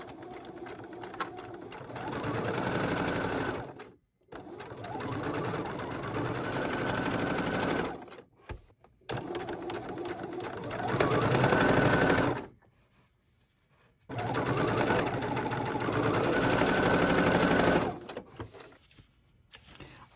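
Sewing machine stitching patchwork fabric squares runs in several rhythmic bursts of rapid mechanical whirring, pausing briefly between runs.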